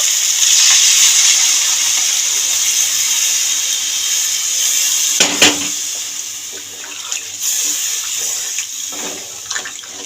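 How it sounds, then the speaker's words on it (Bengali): Water poured into a pan of potatoes and spices being fried for a Bengali snakehead fish curry, a loud hiss and sizzle that settles into a steady bubbling with a sharp splash partway through. "আলু দিয়ে মশলাটাকে ভালো করে কষিয়ে নিয়েছি এবার পরিমাণ মতন জল দিয়ে দেবো"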